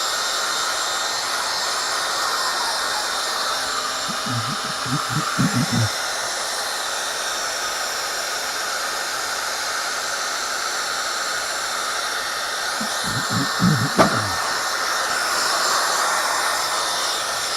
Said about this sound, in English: annoy everyone with the sound of a hair dryer.